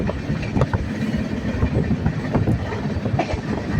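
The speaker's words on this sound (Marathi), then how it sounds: "train Deccan express train fast चाललेली आहे ना" A fast-moving Deccan Express train rumbles loudly and continuously, wheels clattering in a steady rhythm, heard from up close with no talking.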